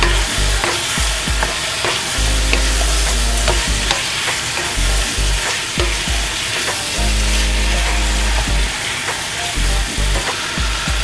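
Chayote (sayote) fries in a pan with crushed tomato, a loud, steady sizzle broken by repeated stirring scrapes and knocks against the pan, with no talking.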